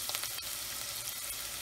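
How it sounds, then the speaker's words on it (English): Green chilli frying in hot oil with golden-brown onions in a pan for a Chettinad-style prawn fry, a close, steady sizzle with faint crackles and a light stirring scrape. "Add green chilli"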